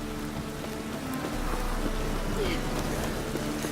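Rain falls in the video game Witcher 3, a steady patter on surfaces heard throughout alongside a low rumbling ambience and a few faint background sounds.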